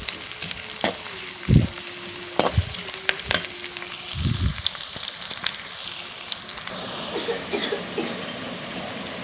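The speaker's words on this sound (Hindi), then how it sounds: "प्याज को तब तक पकाएंगे जब तक इसका रंग गोल्डन सुनहरा न हो जाए।" Onions frying in a pan until golden, cooking for a bhindi dish: steady close sizzling with a few louder bursts of stirring and spatula clatter, no talking.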